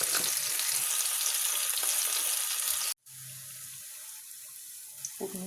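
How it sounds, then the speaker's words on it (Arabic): A tasha of fried garlic and dried coriander is poured onto molokhia, giving a loud hissing sizzle for about three seconds, then a quieter steady bubbling after an abrupt cut. "وبننزل بقى بالطشة بتاعتنا على الملوخية"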